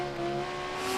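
Fast, hard-to-handle car wobbling down a straight, its engine droning loud and steady with a rising, revving tone.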